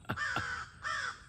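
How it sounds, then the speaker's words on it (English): A crow gives three harsh caws in quick succession, moderately near and clear, in a yard where turkeys roam. "And crows, you heard that crow."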